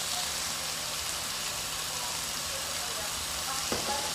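Vegetables for spring roll filling frying in a pan, a steady close sizzle with stirring, one sharp scrape of a utensil near the end.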